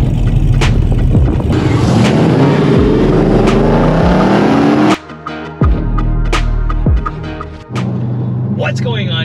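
A modified Dodge Charger RT engine rumbles and revs nearby, a deep throaty roar with rising and falling pitch and a few sharp pops, while voices talk over it.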